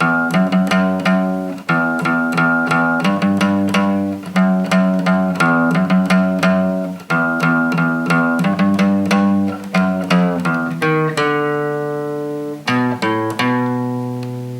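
A guitar riff repeats in quick, rhythmic picked notes, close and clean, ending with a few ringing sustained chords that fade.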